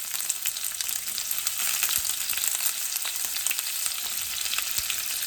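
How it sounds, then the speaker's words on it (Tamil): Chopped onions sizzle and crackle steadily in two tablespoons of hot oil, tempered in a pan for Tamil-style modakkathan rice. The frying is close and continuous, with no talking. "வெங்காயத்தை இதுக்குள்ளே போட்டு தாளிச்சுக்கொள்ளுவோம்."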